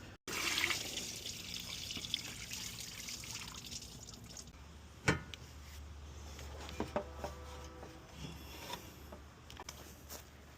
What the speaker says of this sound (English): Coolant's gonna come off.